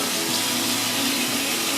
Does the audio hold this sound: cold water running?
yes